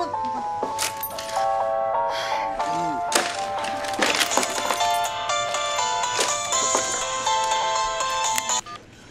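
A telephone ringtone plays as a melodic electronic tune with steady repeating tones, fairly loud and continuous for several seconds, with a few knocks and rustles in a domestic scene.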